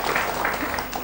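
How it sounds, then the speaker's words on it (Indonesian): Brief audience applause at an Indonesian community gathering with university KKN students, a dense steady patter of clapping that fills the whole short moment without pause. "Tepuk tangan untuk ini ya."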